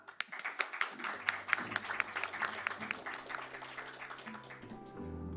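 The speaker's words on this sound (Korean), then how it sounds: "여러분들 다시 한번 큰 박수 부탁드릴게요" Audience applause at a Korean corporate governance awards ceremony, a moderate crowd clapping with distinct sharp claps, fairly quiet, while a low tone hums underneath.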